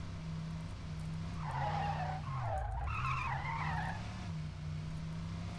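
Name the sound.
tire screeching of cars in a video game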